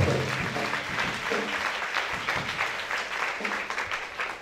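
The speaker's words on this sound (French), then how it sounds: "Acclamez très fort" A church congregation applauds and cheers steadily throughout, a dense wash of clapping with voices mixed in, no clear pauses.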